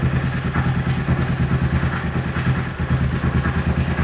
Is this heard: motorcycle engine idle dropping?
yes